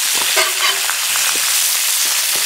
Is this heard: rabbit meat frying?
yes